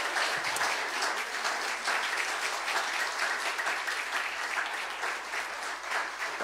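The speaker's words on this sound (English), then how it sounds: "Can we give them a round of applause," A church congregation at a Sunday service gives a steady, moderately distant round of applause that continues without a break.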